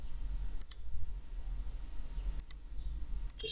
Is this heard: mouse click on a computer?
yes